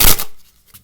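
A deck of playing cards riffled in a one-handed shuffle: a short, crisp burst of flicking card edges, fairly loud and close, followed by near silence and one soft tap.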